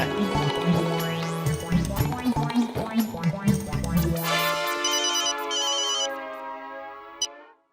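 A telephone ringtone plays a loud melodic tune with repeated tones, then sustains a bright ringing tail before cutting off abruptly.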